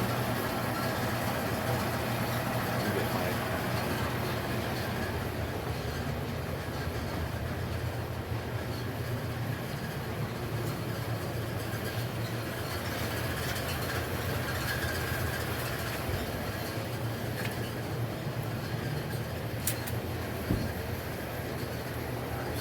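A bowling alley pinsetter runs with a steady, droning mechanical rumble and hum, while one of its gears fails to advance. Faint clanks come through now and then, and no one speaks.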